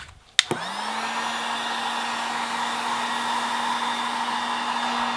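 A heat gun or hair dryer warming the side skirt trim of a 2015 Audi A3 switches on with a click and then blows a loud, steady whooshing hum with a constant tone, near and alone.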